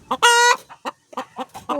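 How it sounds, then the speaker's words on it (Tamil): A hen clucking loudly and close after laying her first egg, with a long drawn squawk followed by a run of short, rhythmic clucks and no talk. "மேடம் வந்து முட்டை போட்டு வந்து சவுண்டு கொடுத்துட்ருக்காங்க"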